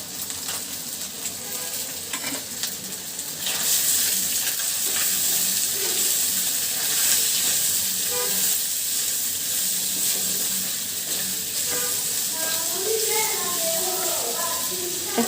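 Chopped onion and crushed garlic hit hot oil in a pan, a steady bright sizzle that rises sharply after a few seconds and keeps hissing, with faint stirring clinks near the end.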